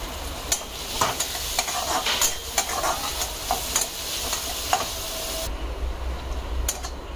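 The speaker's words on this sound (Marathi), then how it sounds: "कांदा छान परतून घ्यायचा आहे आपल्याला" Chopped onion sautéing with ginger-garlic paste in a pan for stuffed brinjal masala, giving a steady close sizzle broken by repeated spatula scrapes and clicks, with no talking.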